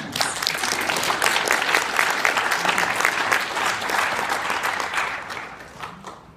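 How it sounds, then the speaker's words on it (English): Audience at an Eagle Scout speech gives sustained applause, dense hand claps filling the room steadily for several seconds before tapering slightly near the end. "Again, the hand claps."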